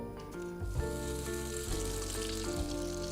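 Egg nog French toast fries in hot clarified butter with a continuous bright sizzle and fine crackle. Low steady tones hum underneath the whole time.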